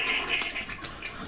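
An old toilet is flushed to empty its water before removal. A short, quiet rush of water swirls through the bowl, heard alone.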